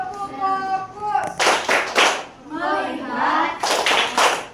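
Children in an Indonesian classroom clap hands in short rhythmic bursts during a focus chant, sharp and close, with a teacher's voice and children's voices speaking between the bursts.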